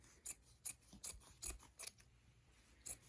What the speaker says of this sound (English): So you can just run your scissors up the side